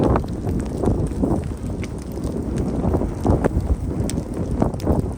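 Wind gusts roar across the microphone on a snowy winter hike, a continuous buffeting rush with uneven surges and no talk.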